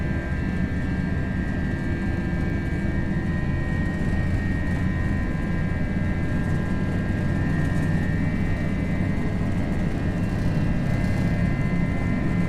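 A320 jet engines roar at takeoff thrust in the Prepar3D flight simulator, a loud, steady, unbroken whine and rumble that holds the whole time with no talk.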